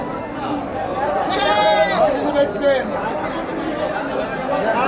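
Goats bleat loudly several times over a dense hubbub of chattering voices at the busy outdoor Chandaikona livestock market in Sirajganj, Bangladesh.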